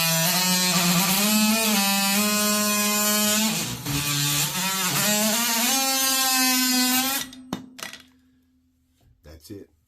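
Power drill driving a screw into a bathtub flange at the tub line, a close, loud motor whine that dips once under load, climbs again, then cuts off with a few handling clunks.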